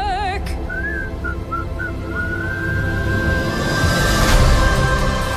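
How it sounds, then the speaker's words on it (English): A lone whistler carries a tune over a steady bed of background music, the melody sliding between held notes and short bursts, loud and close. "Whistle while you work!"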